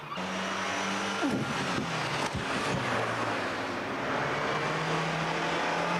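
A car speeding away during a police chase, its engine roaring steadily with shifting pitch and a brief tyre squeal midway, loud and close throughout with no talking.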